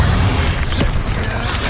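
A Bombarda spell explodes in Hogwarts Legacy, a dense, loud, broadband blast that rumbles steadily for about two seconds without a clear decay.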